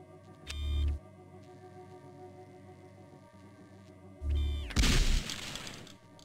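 Shotgun blasts hit a training target in the video game Gunman Chronicles. Two deep, booming shots come a few seconds apart, the second followed by a bright, shattering crash that tails off, over a low ambient hum.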